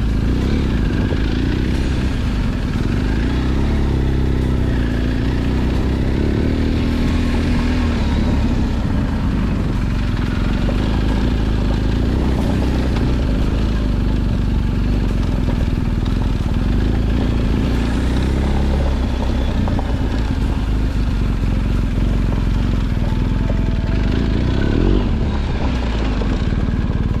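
A BMW R1250GS motorcycle engine running steadily for a long stretch, a loud continuous low rumble and drone heard up close and alone, with no talk over it.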